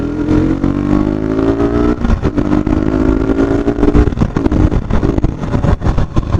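A 2021 KTM RC 200 BS6 motorcycle under hard braking: the engine's loud, close drone slides downward in pitch as the bike slows, then gives way to rougher, choppier engine and road noise.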